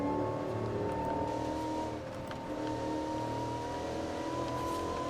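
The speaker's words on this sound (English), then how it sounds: "Woo, you really hear that supercharger now" A supercharged Range Rover engine in Forza Horizon 5 drones steadily at a constant pitch with a high supercharger whine over it, loud and continuous throughout, with a brief slight dip partway through and no talking.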